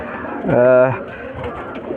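A single rounded pigeon coo sounds up close and loud, with a person speaking around it.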